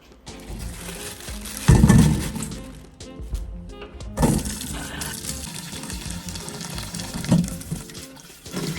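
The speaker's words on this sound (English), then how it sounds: "That's the time to pour up water, you know." Water poured into a cooking pot while preparing a Jamaican meal of corned pork, dumplings and yam, with splashing bursts and clattering kitchen handling sounds in between.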